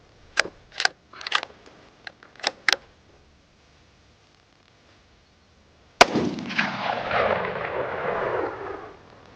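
Shots from a Ruger American Gen 2 .308 bolt-action rifle: several sharp cracks in close succession, then a quiet gap and one loud, near report that rings out with a long, fading tail.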